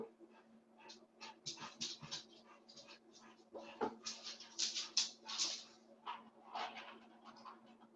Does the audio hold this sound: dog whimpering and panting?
yes